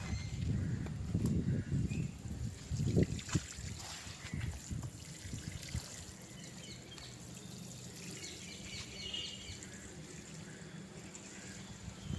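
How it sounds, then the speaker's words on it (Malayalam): Water trickles and splashes slowly onto newly planted kitchen garden plants, a soft steady pour heard close by, heavier at first and then thinning to a gentle dribble. "വെള്ളം ഒഴിച്ചു കൊടുക്കും"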